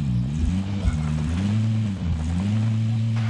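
A vehicle engine drones steadily while driving in Modern Warfare, a loud, close hum with a brief dip in pitch midway before settling back, and no talk over it.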